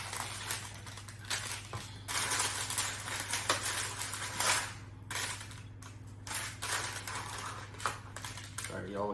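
A low carb, high protein pizza is cut on a pan, with scattered scraping and clinking of a cutter against metal over a steady low hum, close and fairly quiet.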